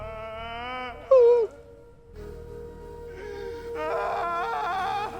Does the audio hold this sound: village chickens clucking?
no